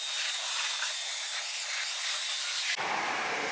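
A pressure spray of rinse water hitting a Tesla Model Y with ceramic coating during a hand car wash, a loud steady hiss that changes tone abruptly near the end as the spray shifts position.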